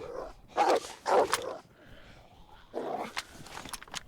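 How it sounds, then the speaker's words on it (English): Several sharp barks from a single wolf in the video game DayZ ring out at a moderate distance, two close together, then a pause, then a few more, over quiet background. "I can only hear one wolf barking."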